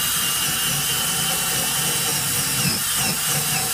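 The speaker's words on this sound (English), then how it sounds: "Get a drill with a brush." Power drill fitted with a wire brush scrubs rust off a grill left outside over winter, producing a steady, loud whirring and hissing grind that runs continuously throughout.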